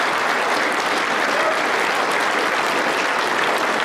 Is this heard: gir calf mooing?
no